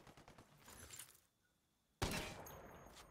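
Heavy .50 caliber rifle fire in the Ghost Recon Wildlands shooter game: a burst of loud reports, a short lull, then a sudden sharp blast with a ringing tail.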